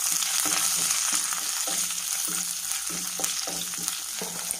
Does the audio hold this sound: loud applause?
no